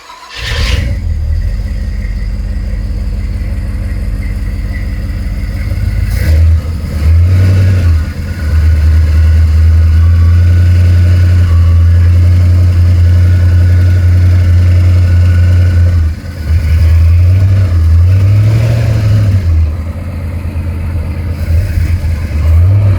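A Ford FE 352 V8 runs at a steady idle with a loud, even low rumble, briefly dipping and rising in pitch a couple of times as the throttle is blipped, with no talk over it.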